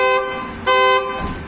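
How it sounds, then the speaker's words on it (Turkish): Horn of a Skoda Octavia giving short honks as a lock warning, three bursts: a clipped toot, a longer blast, then a brief final toot, loud and close with no talking. "korna ve dörtlerine uyarı veriyor"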